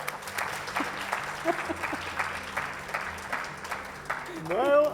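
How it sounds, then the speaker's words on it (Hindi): Audience applause at a televised event celebrating PM Modi's birthday with a guest, a moderate wash of clapping with a speaking voice over it, fairly distant and quiet. "तालियां बजाओ यार"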